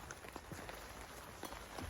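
Rain patters steadily on a camping tarp pitched over a pebble shore, a soft, dense drumming of drops with no voices.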